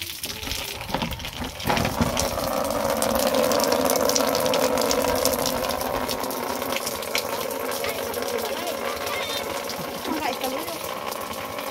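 Rainwater pours and gushes steadily from a roof during rain, with a continuous rushing hiss and faint voices in the background.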